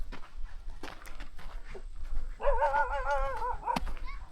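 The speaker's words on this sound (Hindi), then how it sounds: "ये वो कुत्ता कैसे बैठा है, हालांकि वो डर रहा है मुझसे। देखो कैसे गुर्रा रहा है।" A frightened dog sits in a jungle setting and gives a low, wavering growl that rises into a drawn-out whining tone lasting about a second, heard nearby among faint rustling and footsteps.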